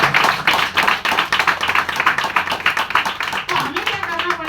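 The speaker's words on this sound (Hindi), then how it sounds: "ये मैडम को ताली दे" An audience at a training session claps for a woman in a quick, rhythmic run of close, sharp claps, with a voice briefly emerging near the end.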